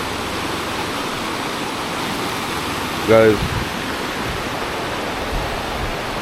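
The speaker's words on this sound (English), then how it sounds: "No noise pollution, just the sound of the river" A river flowing near a home in a remote area of the Philippines, a steady broadband rushing wash that fills the clip, with a brief spoken word partway through.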